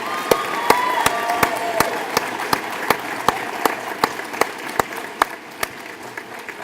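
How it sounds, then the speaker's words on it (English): Rhythmic unison clapping from cadets and guests at a military youth academy graduation, a steady beat of sharp claps over a bed of scattered applause and faint cheering, slowly fading toward the end. "would you give them a round of applause"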